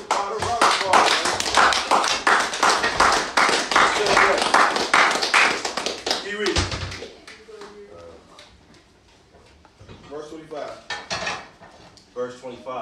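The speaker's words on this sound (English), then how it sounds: "Give the Father a round of applause" A congregation at a worship gathering claps hard and fast in a loud, rhythmic burst for several seconds before it fades into quieter speech and scattered sounds.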